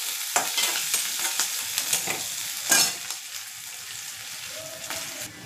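Onion, garlic and chilli frying in mustard oil in a pan for a fish recipe, a steady close sizzle broken by several clattering stirs and scrapes of a spatula.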